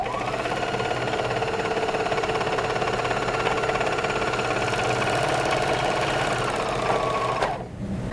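A BERNINA 1300 MDC overlocker runs steadily while stitching a two-thread flatlock, a fast even mechanical whir with rhythmic needle chatter, close and constant before it winds down and stops just before the end.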